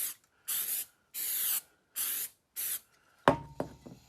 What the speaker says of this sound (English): Spray your board.